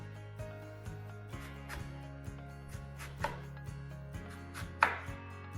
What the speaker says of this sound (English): you kind of wanna slice it in like a rainbow shape